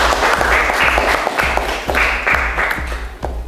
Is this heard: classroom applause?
yes